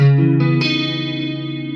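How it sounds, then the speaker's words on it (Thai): A 2009 Fender American Deluxe Stratocaster HSS chord rings out with a shimmering, wavering chorus effect, sustaining and slowly fading without any talking. "มาฟังเสียงคีย์คอรัสกันนะฮะ อ่าเสียงคีย์คอรัสบ้าง"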